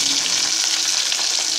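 Dried red chilies and curry leaves sizzle in hot oil with cumin seeds in a pan, a loud, close, steady crackling hiss with no talking.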